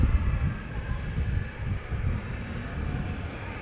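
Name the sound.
Ryanair and Jet2 jets at Manchester Airport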